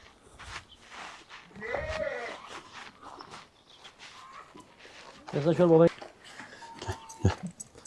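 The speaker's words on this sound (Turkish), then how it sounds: "Bu köpeğe en bu köpeği de beğendim ben. Güzel köpek." An eight-month-old dog makes a couple of short whimpering, yelping sounds amid outdoor chatter, with several people talking nearby and footsteps audible.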